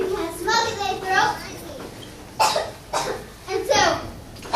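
A series of several harsh, breathy coughs comes at close range in bursts, mixed with a childlike speaking voice, like a character coughing in a cartoon.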